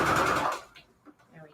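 A sewing machine stitches fabric onto receipt paper in a short rapid buzzing burst, followed by quiet talking.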